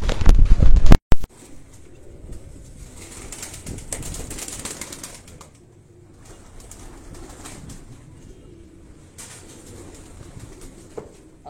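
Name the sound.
pigeon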